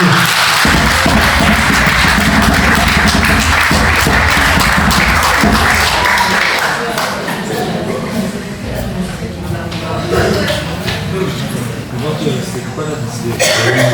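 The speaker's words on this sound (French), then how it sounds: "Applaudissez, encouragez." A church congregation at a testimony service claps and cheers for a young man, a dense burst of hands for several seconds that thins as talking continues over it.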